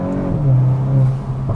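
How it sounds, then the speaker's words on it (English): Engine of a VW Golf MK8 GTI with a Unitronic intake and turbo inlet, heard from inside as a steady loud drone that rises and holds through a gear, with no distinct blow-off whoosh standing out. "Yeah, that blow-off sound is just awesome."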